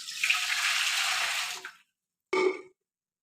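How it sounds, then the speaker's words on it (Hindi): Water pours steadily into a cooking pot for mustard greens (sarson ka saag), a loud continuous splashing stream that stops, followed after a short pause by a brief second pour. "तो इसमें हम डालेंगे थोड़ा सा पानी सबसे पहले।"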